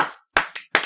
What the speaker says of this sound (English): Round of applause, everyone, for David.